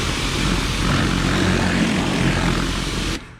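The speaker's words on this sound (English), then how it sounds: "We're gonna go ahead and pressure wash the top of the hood first." Close, loud and steady hiss and rumble of a pressure washer spraying the hood of a Chevy Colorado truck, running without a break for about three seconds before cutting off.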